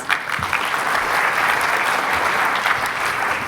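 A dense, even round of audience applause greets Dr. Lawrence Lai, Chairman of the IHF Awards 2019, at the ceremony; the clapping is loud and continuous throughout.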